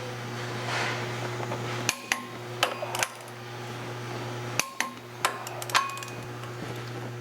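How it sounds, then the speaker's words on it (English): A torque wrench clicks sharply several times while tightening the flywheel bolts in a crisscross pattern on a 1997 Dodge Ram 5.9L with an NV4500 five-speed, heard close over a steady background hum. "Now the torque wrench is set for 101, and this is always going to be in a crisscross pattern."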